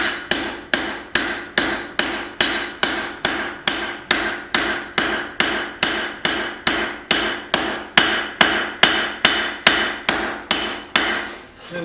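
Steady, evenly spaced blows of a cross peen hammer forging the integral bolster of a steel knife, each strike ringing close and loud in a regular rhythm of roughly two per second.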